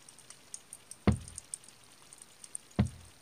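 Knocking on a front door in a horror story, two single heavy knocks about two seconds apart, dull and fairly close, with faint scattered ticks and patters between them.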